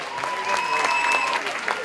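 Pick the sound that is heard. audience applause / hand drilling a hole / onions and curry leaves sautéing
audience applause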